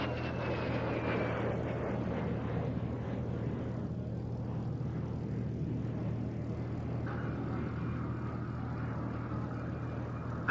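A Vampire jet fighter flies at an IWM Duxford evening air display, producing a steady, distant rushing jet rumble that holds evenly throughout, with no talk.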